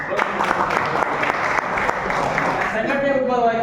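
An audience at a gathering claps together in a brisk, even burst of applause, close and fairly loud, with a voice starting up as it fades.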